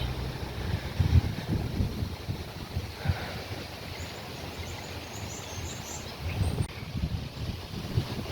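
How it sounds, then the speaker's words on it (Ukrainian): Cold wind gusts in Ukraine buffet the microphone in low rumbling surges, with a faint rushing background and no voices. "але дуже холодний вітер"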